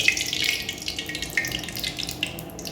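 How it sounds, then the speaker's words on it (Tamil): Cooking oil poured into a pan while preparing sweet-shop style badusha, a steady hissing liquid stream that runs close and continuously with no voices. "எண்ணெயை ஊற்றி எண்ணெய் கொஞ்சம் ஜாஸ்தி ஊற்றணும்"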